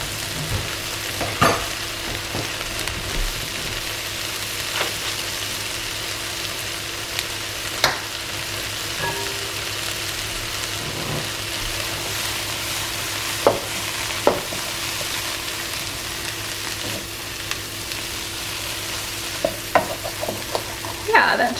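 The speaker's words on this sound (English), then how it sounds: "You're basically just gonna cook this asparagus until it is bright green" Asparagus cooks in butter in a pan, giving a steady soft sizzle with occasional scrapes and taps of stirring throughout, close and moderately loud with no talking.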